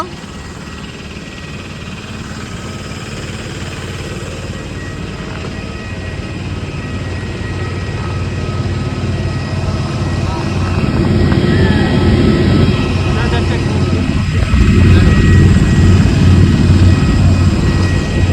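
Airliner just landed at Visakhapatnam airport, a steady broad engine roar and cabin rumble that swells louder toward the end, with faint voices beneath.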